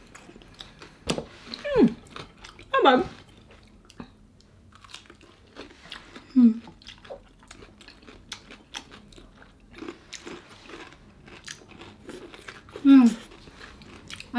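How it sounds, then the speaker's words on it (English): Close, wet chewing and crunching of a Jollibee fried chicken bite with gravy and cucumber, in irregular bursts with pauses, and a short spoken remark between bites. "First bite of gravy and cucumber."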